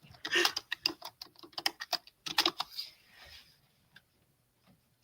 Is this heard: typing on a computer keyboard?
yes